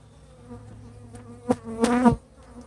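Honeybees from a repeatedly swarming colony buzz close by, with a few loud, brief passes of individual bees zipping near the microphone over a faint background hum.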